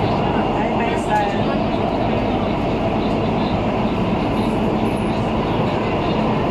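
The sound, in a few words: train passing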